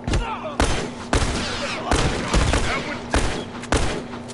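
Rapid gunfire in The Last of Us multiplayer, a string of loud, close shots at a steady, roughly half-second rhythm with a constant low hum underneath.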